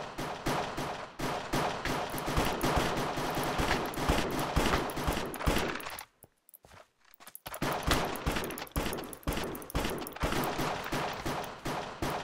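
Rapid bursts of Desert Eagle gunfire in a Minecraft Cops & Crims match, loud repeated shots with a short quiet break midway before the firing resumes.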